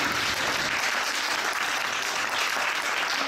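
Dense, steady applause from an audience at a live television special for the premiere of the crime film Meurtres en Pays d'Oléron, a loud continuous wash of many hands clapping with no voices standing out.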